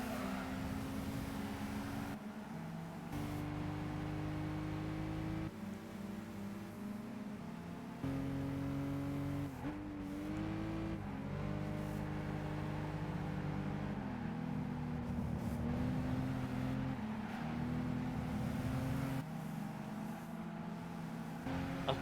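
Race car engines from Gran Turismo 5, including a Supra, drone steadily through a long stretch, with sustained engine tones shifting in pitch as the cars accelerate and change gear, at a constant moderate level.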